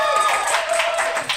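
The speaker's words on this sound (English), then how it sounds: "clap it up for Xochitl." Audience applause at a Los Angeles book launch for the poetry collection Incantation, a brief burst of steady, dense clapping from a room full of people, loud and continuous throughout.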